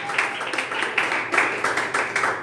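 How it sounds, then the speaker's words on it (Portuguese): A church congregation applauds, a steady run of close, crisp handclaps with uneven rhythm carrying on for a couple of seconds with no talk over it. "Pode aplaudir o Senhor"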